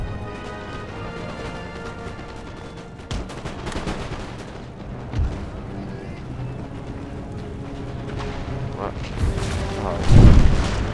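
Cannons boom across an Empire: Total War battlefield, scattered heavy blasts rising out of a steady din of gunfire, the loudest hit near the end.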